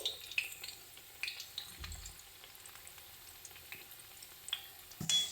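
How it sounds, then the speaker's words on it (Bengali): Red lentil fritters frying in a pan and being turned over, heard as a soft, steady sizzle with occasional clinks of the utensil against the pan. "তো চলো উল্টে পাল্টে ভালো করে ভেজে নেবো এবার বড়াগুলোকে"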